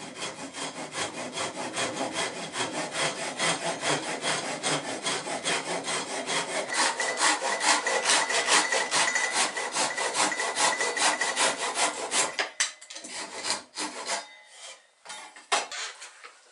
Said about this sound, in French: avec la scie, on fait deux traits de scie.